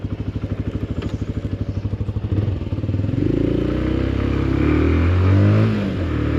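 Benelli Leoncino 125 motorcycle being ridden: a close, rapid pulsing single-cylinder engine note that swells into a louder, smoother drone as it revs up and accelerates.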